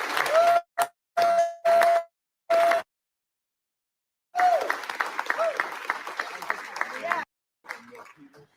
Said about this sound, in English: let's give a round of applause to our officers and law